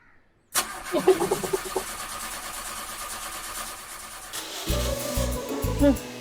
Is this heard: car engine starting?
yes